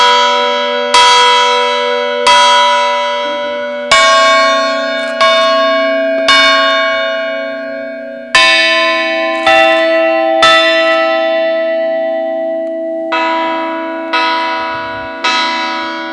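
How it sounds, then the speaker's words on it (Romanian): Newly blessed church bells in a village ringing loud and close, with a series of struck peals roughly every second or two whose long metallic hum overlaps and decays between strikes. "aceste clopote pot fi folosite pentru cultul divin al bisericii"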